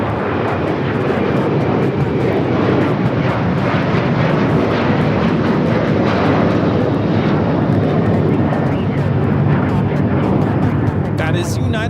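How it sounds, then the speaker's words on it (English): A United Airlines Boeing 737-900ER jet takes off at Los Angeles airport, its engines a loud, sustained roar filling the whole stretch, with voices heard faintly in the background. "That is United Airlines 2667 taking off to Washington Dulles on the 737-900ER."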